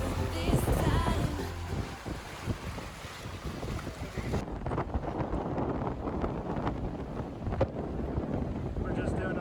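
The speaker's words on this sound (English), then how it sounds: "We're just doing a little bit of motor sailing right now because the wind is straight off our bow" A sailboat motor sailing with the wind straight off the bow, steady engine and water rush mixed with heavy wind buffeting on the microphone, while a person speaks and music plays early on.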